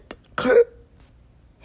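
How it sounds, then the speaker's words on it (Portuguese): A man coughs in a short, harsh burst, with a faint throaty sound just before it and quiet afterward. "antes de tossir por um tempo e expelir o catarro no lenço de papel"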